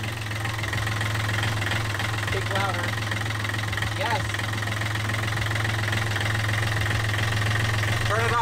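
Yanmar marine diesel engine running steadily with a low, even drone throughout, revved up for a check of water flow; people talk briefly over the constant engine noise.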